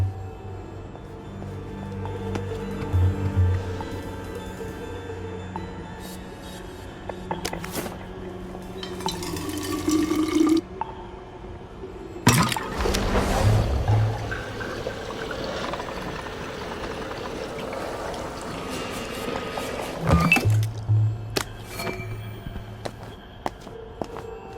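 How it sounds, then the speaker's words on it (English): Water being filtered in the game We Happy Few: soft pouring and liquid trickles with clinks of glass and metal containers, a few louder bursts of handling noise, fairly quiet overall with no talking. "I'll need to filter some water."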